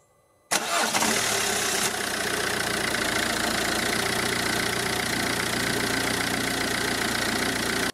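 A car engine on a 12-volt battery cranks briefly during a battery starting test and catches, then settles into a steady, loud idle close by, with no talking.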